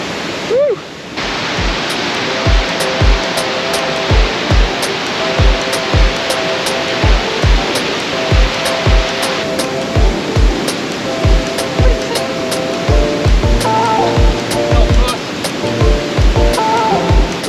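A steady, loud roar of water from the tallest unbroken waterfall in England fills the scene, with regular close footsteps or knocks thudding through it.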